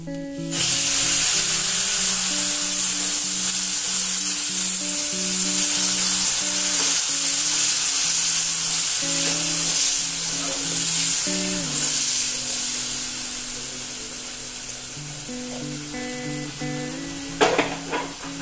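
Milk poured into a pan of almond sheera with plumped raisins sizzles and hisses loudly and steadily, a continuous close frying crackle with stirring that eases slightly toward the end.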